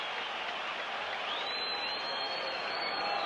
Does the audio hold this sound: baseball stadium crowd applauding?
yes